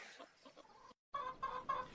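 A goose gives a handful of short, nasal honks close by, with a brief silent gap midway and no voices over it.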